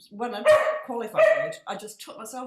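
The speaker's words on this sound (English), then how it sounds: "sorry about the dogs having a bit of a moment in there." Dogs bark and yip in a home during a podcast conversation, sharp barks breaking through near-continuous talk across the clip.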